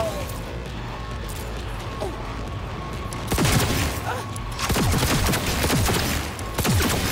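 Gunfire in Cyberpunk 2077 crackles in several sharp bursts over steady game background, growing denser in the second half, with a player talking over it.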